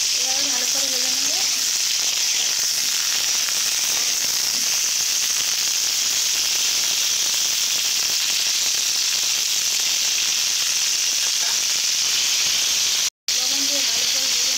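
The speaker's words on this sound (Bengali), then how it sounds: "ফুলকপি দিয়েছি, যে স্বাদ অনুযায়ী অল্প করে লবণ দেব, দিয়ে ভালো করে ভেজে নেব।" Cauliflower pieces sizzle in hot oil in a pan with a little salt added, a loud continuous frying hiss that stays steady throughout, with a brief faint voice near the start and end.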